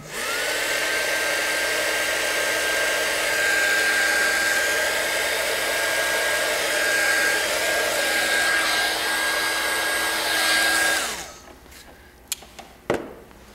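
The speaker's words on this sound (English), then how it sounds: "Now I prefer to use the heat shrink gun because it works better, it's faster" A heat gun blows hot air onto heat shrink tubing in a steady, loud, close whoosh with a constant whine for about eleven seconds, then switches off, leaving a few faint clicks and taps.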